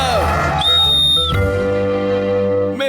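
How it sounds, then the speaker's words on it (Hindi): A cartoon whistle is blown in the Hindi-dubbed Oggy and the Cockroaches, one loud, shrill, steady blast under a second long between surrounding cartoon sounds. "अरे मिल गई सीटी।"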